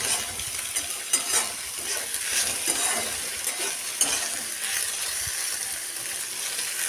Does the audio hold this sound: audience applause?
no